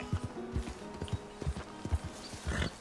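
Hooves clip-clop at a steady walking pace on hard ground, close and even, with faint background ambience.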